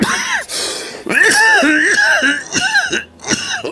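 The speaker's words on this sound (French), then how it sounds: "Oh, je tousse." A burst of several harsh, throaty coughs up close, broken by short gaps and a throat-clearing rasp, with no words spoken.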